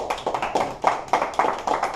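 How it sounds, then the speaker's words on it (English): A small audience claps for a presenter at a group business presentation, brief, fairly close applause of scattered hands with uneven rhythm, lasting about two seconds. "We're going to give Alex a round of applause."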